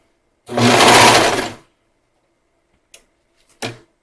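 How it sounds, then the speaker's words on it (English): A serger stitches stretch fabric in one fast, whirring burst of about a second, followed by silence and a couple of soft clicks and handling noises. "I'm just going to use my serger and I am not going to trim any off."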